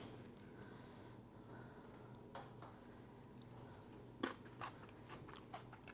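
Faint crunching of einkorn turkey dressing with pecans and olives being chewed up close, a few sharper crisp bites standing out near the end against a quiet background.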